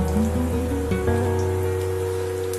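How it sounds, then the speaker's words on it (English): Cumin (jeera) seeds sizzle in hot oil in a wok, a soft steady crackling hiss that carries on evenly throughout. "So we'll just add a few cumin seeds or jeera seeds"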